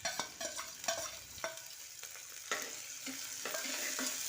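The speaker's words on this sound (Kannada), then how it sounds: "ಉಳ್ಳಾಗಡ್ಡಿ ಎಲ್ಲ ಹಸಿ ಸ್ಮೆಲ್ ಹೋಗೋ ತನಕ ಚೆಂದಾಗೆ ಎಣ್ಣೆಯಾಗ ಫ್ರೈ ಮಾಡ್ಕೋಬೇಕ್ರಿ." Chopped onion and cumin seeds frying in hot oil, a soft sizzle with scraping stirs and spoon clinks at an irregular pace, heard close and alone without voices.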